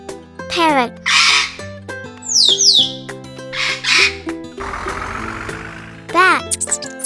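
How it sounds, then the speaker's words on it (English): A parrot gives a series of loud, harsh squawks and shrill whistles, close and clear, with short gaps between calls and a burst of rough noise partway through. "Parrot."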